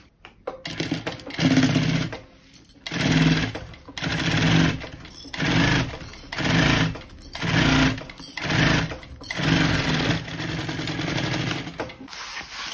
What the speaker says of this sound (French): on va venir coudre avec un point court la pièce B à la doublure